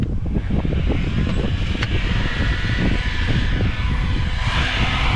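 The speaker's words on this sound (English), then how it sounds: "For the remaining, for this remaining, I will use my heat gun." A heat gun blows steadily on a scrap circuit board to loosen its silver- and gold-plated parts, a continuous, close, roaring airflow hum with no pauses.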